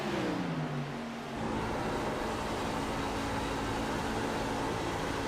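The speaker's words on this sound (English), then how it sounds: "you could hear those tires. They're screaming." Truck tires squeal on a Chicagoland oval in an S10 Wagoner's Welding Truck Series race, a steady loud broadband roar of engine and tire noise filling the whole clip, with a falling engine tone early on and no talk.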